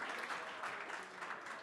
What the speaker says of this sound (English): give these men a round of applause